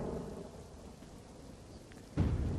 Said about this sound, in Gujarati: ભારે ગરમી અને બફારા બાદ વરસાદનું આગમન થયું.